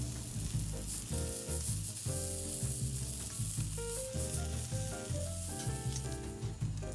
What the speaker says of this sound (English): Roasting the vegetables only takes 10 to 15 minutes, so just stay with them and rotate them around as needed.